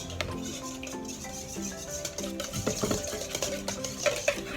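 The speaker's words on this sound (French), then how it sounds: "il faut juste fouetter quoi" Yogurt cake batter being whisked in a bowl, a soft, continuous stirring and scraping with small clinks, close under light background music.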